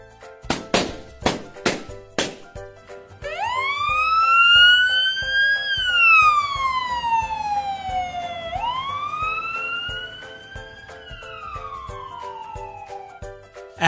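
Following a handful of knocks, an ambulance siren wails loudly and nearby, sweeping up and slowly down in two long cycles.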